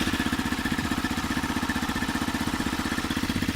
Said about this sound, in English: I'll just start the bike up.